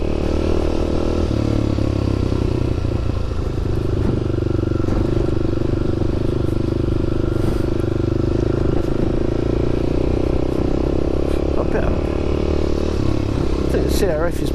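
Kawasaki KLX250SF motorcycle engine running steadily and pulling under acceleration, a loud continuous close-up drone with some clatter and wind rumble throughout.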